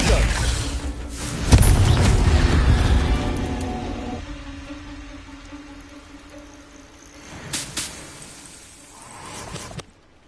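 A fiery Confringo spell blast in Hogwarts Legacy, with a deep booming explosion that rumbles and decays, followed later by softer whooshing bursts of game effects.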